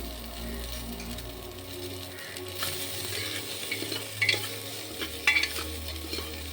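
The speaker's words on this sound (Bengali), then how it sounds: "এবার আমি পেঁয়াজটা দিয়ে দিচ্ছি" Onion is stirred as it fries in a pan: a constant sizzle with regular scraping and clinking of a utensil against the pan, close by and without voices.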